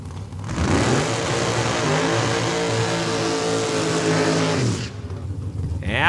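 A 1993 Daytona drag race car roars at a raceway, loud and sustained for about four seconds as it accelerates away down the strip, then cuts off sharply into lower background noise.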